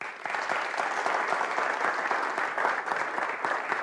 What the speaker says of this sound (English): a round of applause for Mandy Fletcher